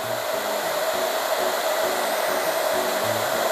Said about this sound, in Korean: 드라이기 소리에 적응하는 교육이 시작됐는데요.